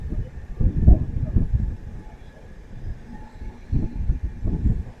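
Onboard rumble of the Visakhapatnam to Tirupathi double-decker express running just past Duvvada, with low rolling thumps in uneven bursts and a steady hum, no talking.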